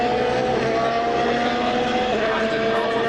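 Formula 1 race cars at an Austrian Grand Prix practice session stream round the circuit, a loud, dense, sustained engine roar with steady high whine, heard from trackside with no talk.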